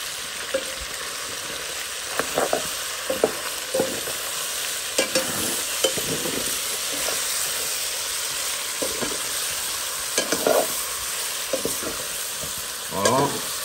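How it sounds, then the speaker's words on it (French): Chicken with patol frying in a pan, a steady sizzle running throughout while a spoon stirs and scrapes in repeated short strokes every second or so. "Je le remue."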